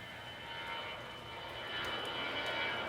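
A military aircraft engine roars steadily at the Da Nang air base during the Vietnam War, a continuous broad drone that swells slightly louder toward the end, with no voices.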